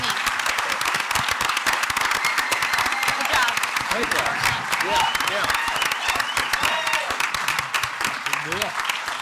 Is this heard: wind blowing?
no